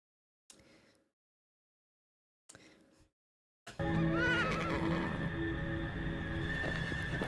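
A horse neighs twice in short, separate whinnies, then a long, loud burst of neighing runs over clip-clop hooves and a dense farm-facility background.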